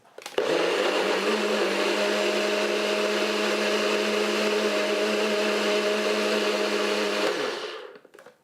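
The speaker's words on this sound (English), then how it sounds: "So now I'm going to blend it up." A blender whirs through a berry breakfast smoothie, kicking on abruptly into a loud steady motor drone for about seven seconds before winding down, with no talk.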